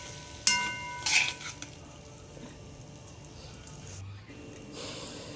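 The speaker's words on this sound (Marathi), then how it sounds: "कोथंबीर टाकल्यानंतर पण मस्त त्याला हलवून घ्यायचं आहे एकदम छानपैकी" A spatula stirs boiled egg bhurji with fresh coriander in a pan, giving two sharp clinks early on and then a faint, steady stirring hiss.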